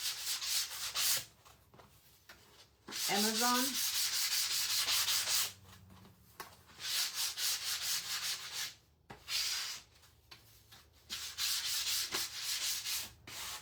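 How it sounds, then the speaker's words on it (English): A 220 grit sanding sponge rubbed along wood edges in bursts of steady scratchy strokes, close and fairly quiet, with brief pauses between passes and a short word spoken once. "This is my 220 sanding sponge."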